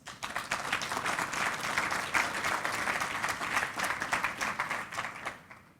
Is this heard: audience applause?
yes